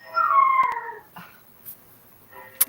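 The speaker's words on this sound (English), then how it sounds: "Can you hear my dog singing in the background?" A dog howls in the background of a home, one drawn-out falling wail followed by a few fainter whimpers and small noises, moderately distant and heard with no talking over it.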